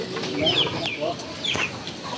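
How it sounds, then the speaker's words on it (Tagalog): Brooding native chickens clucking near their nests of eggs, a few short close clucks and soft calls over about two seconds, with light background noise. "Dami pa rin naglilimlim na mga manok natin"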